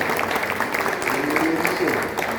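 Applause from an audience at a couples' gathering sermon, a steady wash of clapping throughout with voices mixed in.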